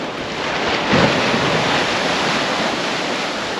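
Surf rolling onto a secluded beach below cliffs, a steady broad wash of waves with wind buffeting the microphone, no talking.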